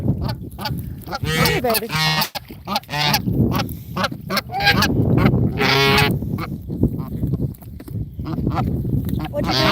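A pet gander honks repeatedly in loud, close, nasal bursts, while a person talks softly to him between the calls.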